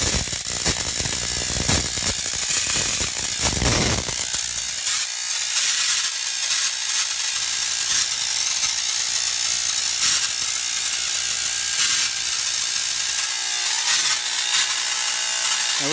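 A Tesla hairpin circuit switched on runs with a loud, steady buzzing electrical rasp that fills the whole stretch, harsh and continuous, shifting in tone slightly after the first few seconds, with no talk.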